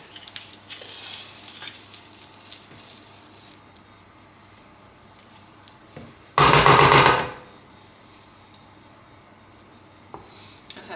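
Oil and butter hit a hot frying pan with a sudden loud sizzle lasting about a second, then the kitchen falls back to quiet clatter.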